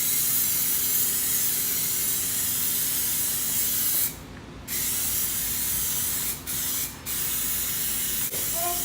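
An aerosol can sprays a blend of Plasti Dip and Rust-Oleum rubber coating onto wheel rims in a long steady hiss, close and loud, then breaks off into several short bursts separated by brief pauses.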